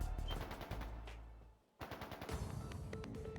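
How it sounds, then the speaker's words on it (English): Rapid gunfire in the video game Trails of Cold Steel 2, loud bursts of automatic shots that stop for a brief lull, then resume in quick clattering volleys. "that sound, gunfire from deeper in."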